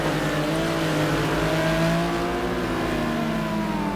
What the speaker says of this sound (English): Oh, and Heyman has a moment, he's spun the Lamborghini around.